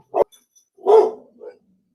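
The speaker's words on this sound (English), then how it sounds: "my puppy's barking" A puppy barks indoors, close and loud: one sharp yap, then a longer, rougher bark and a softer trailing yelp, with silence between.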